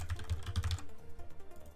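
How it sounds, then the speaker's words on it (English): A quick flurry of soft keystrokes on a computer keyboard, faint and close, then a few scattered taps. "you can hear my keyboard"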